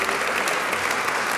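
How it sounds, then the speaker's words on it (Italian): Audience applause at the Premio Sgarlata 2015 award ceremony, a dense, steady wash of many hands clapping indoors that holds evenly for the whole stretch. "Questo applauso"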